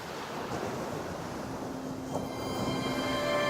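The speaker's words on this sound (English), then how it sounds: "The sound of the waves crashing become louder and louder." Ocean waves from a video game wash onto a beach in a steady, moderately loud surf roar that builds slightly toward the end, with no voices present.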